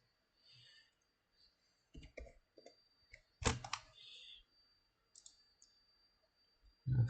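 Scattered bursts of key clicks from a computer keyboard, short irregular taps with quiet gaps between, close and fairly faint, with no talking.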